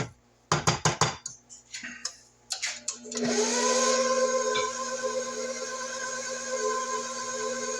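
A few sharp clatters and knocks, then an electric mixer starts up and runs steadily in second gear through cream cheese pecan pound cake batter, a loud continuous whirring drone with a faint high whine.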